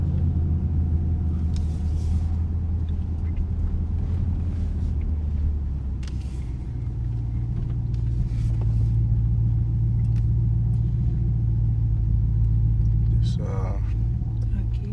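A 2021 Dodge Durango R/T engine heard from inside while driving, a steady deep low rumble that swells as it pulls, with faint murmured talk over it.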